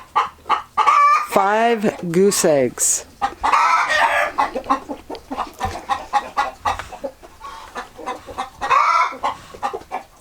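Chicken clucking around a farm hoop house with Muscovy hens and geese nearby, short clucks and a squawk-like call mixed in with close talking.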